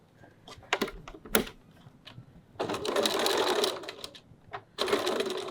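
A sewing machine stitches a pouch at a 2.4 stitch length, opening with a few sharp clicks and taps before two sustained bursts of rapid mechanical stitching, near and fairly loud.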